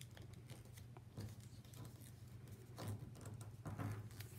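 Paper creases and rustles as a tulip is folded in origami, a steady close crinkling with a few sharper folds over low background hum.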